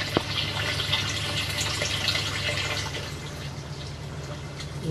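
Water runs and splashes steadily as a hydroponic system's pump moves it out of the nutrient reservoir, making a faint, even liquid trickle and gurgle.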